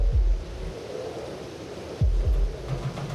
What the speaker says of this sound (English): The rain is definitely coming down.